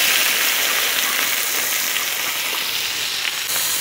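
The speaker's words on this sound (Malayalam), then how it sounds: "കുറച്ച് ഓയിൽ ഒഴിച്ചെടുത്തിട്ട് നമ്മൾ ഉള്ളിലൊക്കെ വാട്ടിയെടുക്കണം" Chopped onions sautéing in oil for a traditional Kerala chicken curry, giving a loud, steady, continuous sizzle with no talking.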